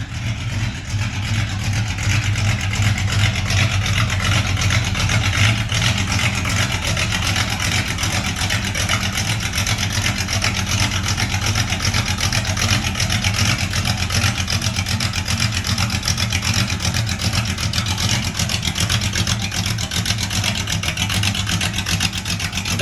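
A 1954 car fitted with a 351 engine runs loud and close, holding a steady rumbling idle with slight rises in revs throughout, no talk over it.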